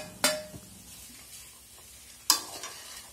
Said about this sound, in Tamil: இப்போ நாம் இதோட நைஸாக நறுக்கி வச்சுருக்க இஞ்சியையும் சேர்த்து வதக்கிக்கலாம்.